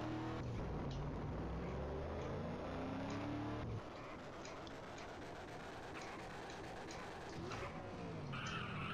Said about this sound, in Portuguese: Ó, tem um carro ali.